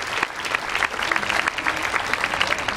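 Audience applause at an aquatic show at Hershey Park: a steady, moderately loud wash of clapping from a crowd, continuous for a few seconds with no talk over it.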